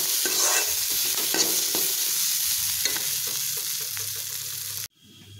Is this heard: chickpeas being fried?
yes